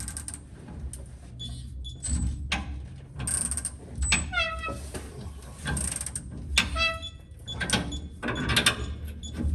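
Hand wrench clicking and ratcheting as the U-bolts are torqued down on a Speed Engineering traction bar install on an OBS truck, with repeated bursts of metallic clicks and mechanical clatter close to the microphone, no talking.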